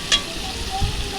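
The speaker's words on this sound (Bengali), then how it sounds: "চিংড়ি মাছগুলো খুব ভালোভাবে ভাজা হয়ে গেছে।" Prawns fry in hot oil for a pumpkin-and-prawn curry, producing a brief close sizzle with a quick scrape of stirring.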